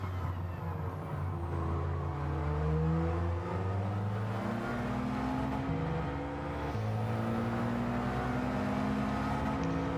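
Engine drone and gearbox whine from a kei car racing around the Autopolis circuit in Gran Turismo 7, a steady layered tonal hum with shifting pitch as it climbs through corners, continuous and loud with no talk.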